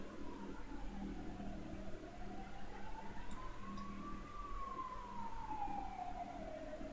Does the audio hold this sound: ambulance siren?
yes